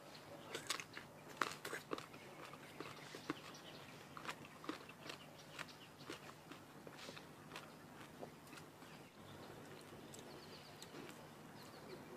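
Close, quiet crunching bites into sour green mango, followed by repeated soft chewing sounds in an uneven rhythm, with no one talking.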